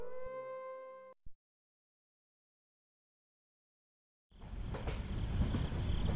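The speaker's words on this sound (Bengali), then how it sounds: "ট্রেন চলছে ঝমঝম শব্দে।" A cartoon train rumbles along its tracks at night, a steady dense clatter rising abruptly after a brief musical tone and a stretch of silence.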